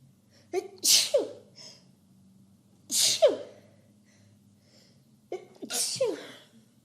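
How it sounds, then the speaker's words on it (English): A person sneezes three times in a row, each a sharp close burst with a quick intake of breath before it, separated by short quiet gaps. "Oh my gosh, I'm going to sneeze."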